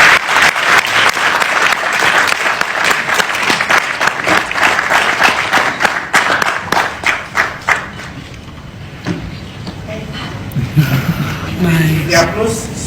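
A crowd at a State House event gives sustained loud applause after a speech, then the clapping thins out around the midpoint and gives way to talking.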